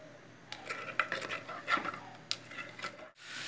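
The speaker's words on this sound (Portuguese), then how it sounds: "Aí eu vou colocar o que eu cortei, cebola, alho e pimentão. Aí vou deixar fritar aqui." Onion, garlic and bell pepper cooking in oil in a pan, heard mostly as close utensil clinks and stirring scrapes against the pan with a faint sizzle underneath.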